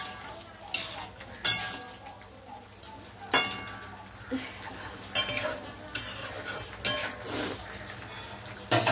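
Food is stirred in a cooking pot over a gentle sizzle, with a string of sharp spoon knocks and scrapes against the pot arriving every second or two, close and clear.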